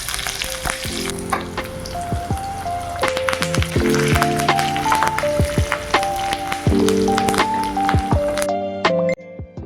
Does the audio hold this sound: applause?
no